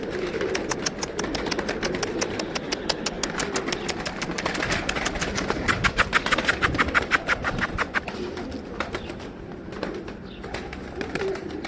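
Wild pigeons at a home loft during feeding, with rapid bursts of wing flapping and soft bird sounds close by, repeating steadily over a low background hum.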